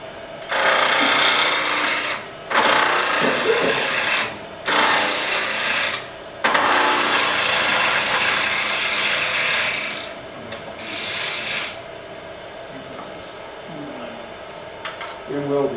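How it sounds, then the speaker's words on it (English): Wood spindle turning on a lathe for decorative turned flowers gives a loud, rasping scrape of tool against spinning workpiece, coming in bursts with short breaks, then fading to a quieter hum toward the end. "Basically, all this is spindle turning."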